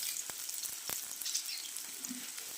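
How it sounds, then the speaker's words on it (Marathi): Onion frying in hot oil in a pan, a soft, even hiss with a couple of faint ticks and crackles, fairly quiet and near, with no voice. "आता पॅनमध्ये तेल टाकून घेऊया छोट्याच्या चम्मचने तेल गरम होत आहे आपण बघू शकता की याच्यामध्ये कांदा टाकून घेऊया"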